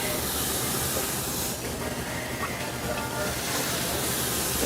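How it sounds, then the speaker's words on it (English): Green chilies sizzle in a moderately hot pan, a steady broadband hiss of frying that runs continuously and fairly loud throughout, with no talk over it. "I'm just browning it, so I don't need a super hot pan, but I still got the sizzle bit"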